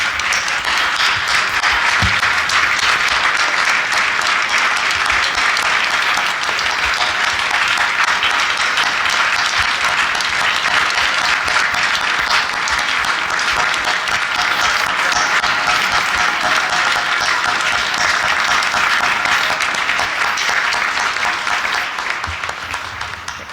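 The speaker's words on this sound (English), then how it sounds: "we can just give her a round of applause" A town meeting audience gives sustained applause, a loud, dense, even wash of clapping that holds steady for over twenty seconds before tapering slightly at the end.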